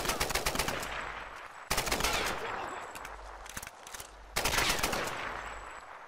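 Automatic weapon fire erupts in Tomb Raider at the Solarii Fortress, three loud sustained bursts of rapid shots with short gaps, close and harsh, with no talking over them.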